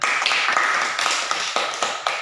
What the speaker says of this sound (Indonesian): Tepuk tangan untuk Maria Amelia.